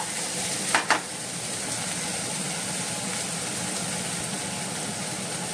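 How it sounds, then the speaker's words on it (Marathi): Small tomatoes fry in a pan for a Konkani clam dish, giving a steady, close, even sizzle throughout, with a couple of quick clicks near the start. "हे हांवें धाकटे टोमॅटो घेयल्ले ओके आनी ताका बरें भाजून घेवपाचें"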